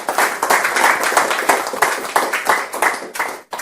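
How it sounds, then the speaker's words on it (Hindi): An audience at a motivational talk clapping loudly and steadily, dense applause filling the space for several seconds with some voices mixed in. "एक जोरदार ताली इनके लिए"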